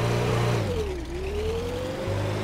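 A heavy truck engine in a video game hums steadily while towing a heavy trailer, its pitch dipping and then rising slowly as it labors, close and continuous without talk.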